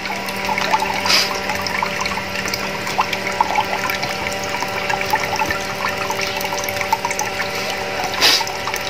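Water runs steadily into a tank through a float level valve, a continuous rushing trickle with a faint pump-like hum, loud and close throughout.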